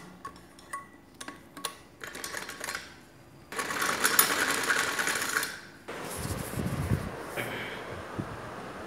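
A sewing machine stitches piping onto baby frock fabric in short ticking bursts that build into a steady, louder whir, then a sustained run with a lower rumble near the end.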